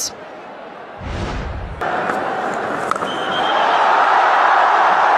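A cricket stadium crowd at the India vs New Zealand T20 World Cup final roars as Indian batters hit big shots. A brief thump comes first, then a broad, swelling cheer builds and holds loudly to the end.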